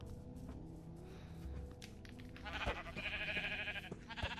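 Minecraft sheep bleat in a game, with a few short, fairly loud nasal bleats clustered near the end over steady background game ambience.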